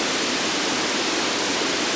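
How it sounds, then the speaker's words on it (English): A running waterfall synthesized in VCV Rack from filtered noise, a dense, continuous hiss and rush, steady and fairly loud with no pauses. "definitely sounds more like a running waterfall"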